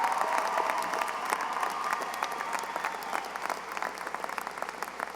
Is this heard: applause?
yes